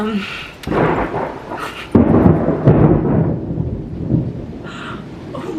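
Thunder rumbling during a storm, deep rolling booms swelling and fading over steady rain, fairly loud and close.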